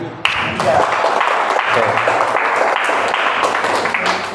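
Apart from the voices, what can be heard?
audience applause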